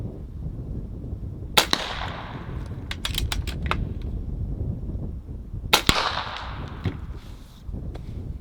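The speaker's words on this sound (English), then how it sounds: "Next up, we have 2 Dr. Peppers. I want to blow the caps off of them." A Barra 250z air rifle shoots at two Dr Pepper bottles outdoors, giving two sharp cracks several seconds apart over a steady background hiss, with light clicks between them.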